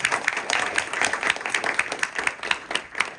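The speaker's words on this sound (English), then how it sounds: "a round of applause, please" A round of applause from the audience at a startup pitch session, dense steady clapping from many hands at moderate loudness, continuing throughout without talk.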